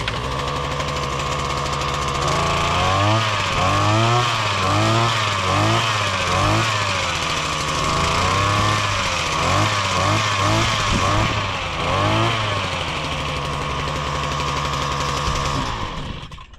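A small gas engine on a new post driver runs steadily at a loud, close idle, its throbbing drone swelling and dipping in rhythmic waves before settling back to an even putter.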